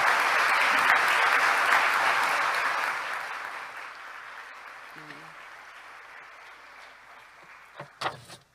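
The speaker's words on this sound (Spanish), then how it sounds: "Cuando se levanten, por favor, le dan un gran aplausos." A church congregation claps in loud, dense applause that fades out over a few seconds, followed by quieter room noise, a brief murmur and a couple of thumps.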